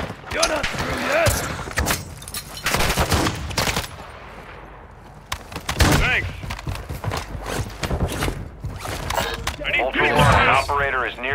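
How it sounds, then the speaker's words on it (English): Sharp bursts of gunfire crack in a military shooter game, loud and close in irregular volleys with a lull in the middle, while voices speak over the shooting. "You are taking effective fire."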